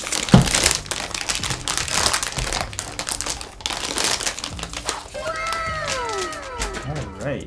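Packaging around a Melgeek Mojo 84 keyboard crinkles and rustles as it is unwrapped, close and irregular, with plastic scraping and a few squeaky high slides near the end.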